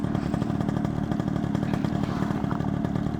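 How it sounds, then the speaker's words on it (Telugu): A two-stroke Yamaha RX100 motorcycle engine runs steadily and close, with a dense, raspy buzzing drone that holds at a constant loudness throughout, with no voices. "సౌండ్ చూసారు కదా, 2 స్ట్రోక్ ఇంజన్స్ ఇవ్వగల అలాంటి సౌండ్ ఇంకే బైక్స్ ఇవ్వలేవు"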